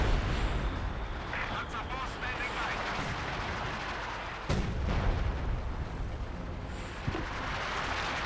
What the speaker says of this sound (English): artillery having a hard time hitting in there